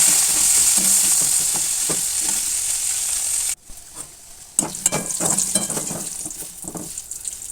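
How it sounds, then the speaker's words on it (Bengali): Pumpkin pieces frying in oil give a loud, steady sizzle that cuts off abruptly partway through, followed by quieter scraping and stirring clatter in the pan. "এবার আমি কুমড়োটা ভেজে নেব কুমড়োটাও আমি লাল লাল করে ভেজে"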